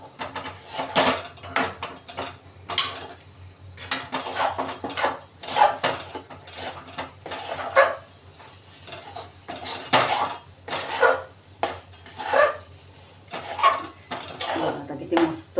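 Orange burfee mixture with ghee stirred in a metal pan, repeated scraping and clinking strokes of a spoon in an uneven rhythm, close and moderately loud, with no talk.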